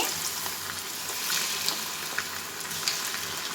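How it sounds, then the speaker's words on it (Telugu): Chicken kebab pieces fry in a pan of hot oil with a steady, dense sizzle that holds an even loudness throughout, broken by a few brief crackles and pops; no voices are heard. "ఇప్పుడైతే మనము నూనెలో వదులుకుందామండి"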